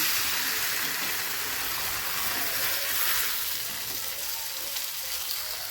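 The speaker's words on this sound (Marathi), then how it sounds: "आपली दुसरी सुद्धा थालीपीठ आपल्याला या ठिकाणी भाजून घ्यायची आहे" Steady, close sizzling of a fasting-style bhajani thalipeeth flatbread frying in oil on a hot griddle, a continuous hiss with no talking.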